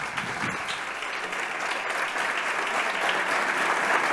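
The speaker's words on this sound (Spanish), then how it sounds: "Carlos Santana, fuerte aplauso para él." Steady, dense applause from a full conference audience welcoming Carlos Santana to give an education talk, sustained and even at moderate loudness throughout with no talking.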